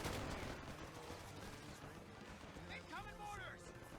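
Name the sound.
machine gun fire in battle, Company of Heroes 3 video game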